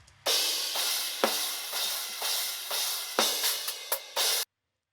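Prog drum cymbals ring with a low-cut EQ applied, thinner and airier with the low end removed, a continuous bright wash punctuated by several accented hits, played alone before stopping abruptly.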